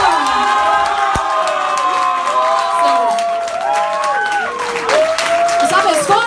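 A crowd at a band contest applauds and cheers loudly for a Hamburg folk-rock band, with whoops, shouts and clapping layered together throughout.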